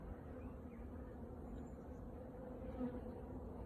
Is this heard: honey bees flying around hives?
yes